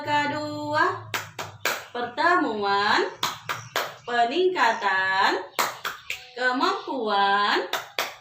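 A group of women claps out a rhythmic P2K2 clap chant at a community family-welfare meeting, sharp hand claps falling in patterned bursts between voices chanting and singing along.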